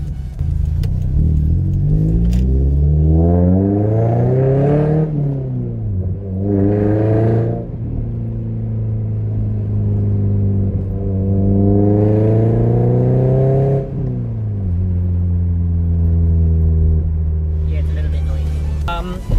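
A Toyota MR2 with a Toyosport exhaust rises and falls through repeated revs as it accelerates, a deep droning tone sweeping upward several times, loud and close.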